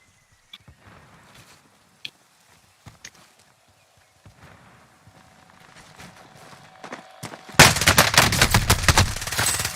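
Gunfire in the video game Warzone: scattered single shots and footsteps at first, then a loud, rapid automatic burst in the final seconds, with no talk.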